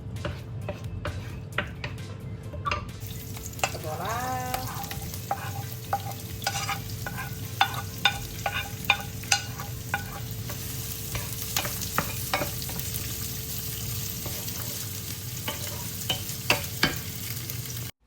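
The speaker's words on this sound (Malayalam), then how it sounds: "ഈ ജിഞ്ചർ ഗാർലിക് സവോള എല്ലാം കൂടെ ഇട്ടിട്ട് അതൊന്ന് ഒരു ഫൈവ് മിനിറ്റ് ഒന്ന് എണ്ണയ്ക്കകത്തൊന്ന് ആയി വരുമ്പോഴത്തേക്കും" Steady oil sizzle as ginger, garlic and onion fry, with frequent scraping and clacking of a spoon stirring in a pan, close by and continuous, with no talking.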